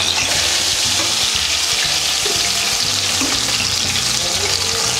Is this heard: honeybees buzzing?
no